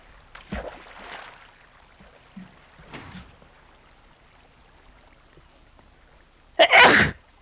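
One loud, sharp human sneeze bursts out near the end, preceded by faint scattered noises and quiet movement in a Minecraft session.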